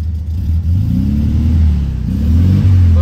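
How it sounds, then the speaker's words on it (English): A VW Beetle engine with a past shaky misfire runs steadily and loudly, a constant close low idle rumble with a slight rise in revs, no talk over it. "at least we got the engine running perfect"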